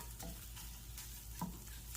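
Crumbled sausage sizzling in a pan for a breakfast scramble, a steady close frying hiss with occasional stirring scrapes and no voices.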